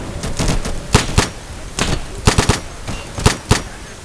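Rapid automatic gunfire in the PC tactical shooter Insurgency, loud close bursts of several shots each separated by short pauses, with faint background noise between volleys.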